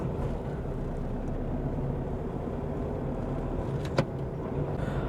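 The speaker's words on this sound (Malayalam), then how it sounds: "വണ്ടിയുടെ ശബ്ദം കൃത്യമായിട്ട് നിങ്ങൾക്ക് മനസ്സിലാകുമെന്ന് കരുതുന്നു" A 2015 Honda City diesel on the move over a bumpy road, heard as a steady, even cabin drone with one brief knock near the end.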